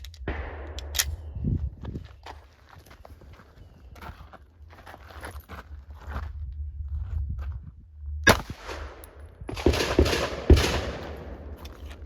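9mm Winchester 115-grain full metal jacket rounds fire in a short burst of sharp reports near the end, after a quieter stretch of handling and shuffling noises.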